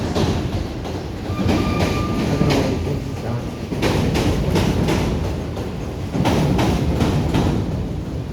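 A train rolls past with rhythmic clickety-clack from the wheels, the rumble swelling and easing in waves throughout.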